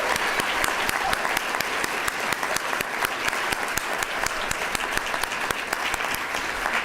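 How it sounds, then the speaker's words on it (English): An audience at a student leadership awards ceremony applauds five new gold star award recipients, a dense, steady patter of many hands clapping continuously at moderate distance. "Please join me in a round of applause in congratulating all 5 new Drake Martin Gold Star."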